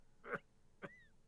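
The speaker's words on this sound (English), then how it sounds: "is this the grandfather with the cough that you were talking about?" A grandfather character coughs in the Octopath Traveler video game, two short, harsh bursts about half a second apart, fairly quiet with a faint tonal game sound trailing the second.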